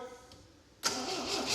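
An MG car engine cranks without firing, the starter kicking in abruptly after a quiet moment and churning steadily and loudly to the end.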